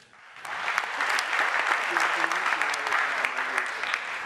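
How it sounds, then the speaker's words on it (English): Sustained audience applause at a senior high school renewable energy challenge, a dense wash of clapping that swells quickly and holds steady, with a voice faintly heard underneath. "They all deserve a round of applause as well."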